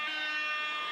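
An end-of-match buzzer sounds at a youth touch rugby gold-medal game, a steady, sustained electronic tone holding at constant loudness over the full stretch.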